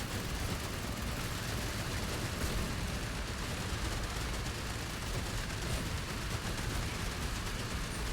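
Gatling gun fire in the sci-fi siege game Outpost Infinity Siege, a steady unbroken rattle of rapid shots running the whole stretch at an even, moderate level.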